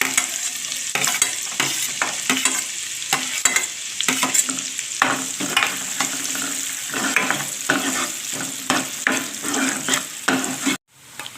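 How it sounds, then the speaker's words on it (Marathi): Onions fry in hot oil for a boiled-egg masala gravy, giving a steady close sizzle broken by frequent scrapes and clicks of stirring, which stops abruptly near the end. "आता या तेलामध्ये आपण कांदा फ्राय करून घेऊया"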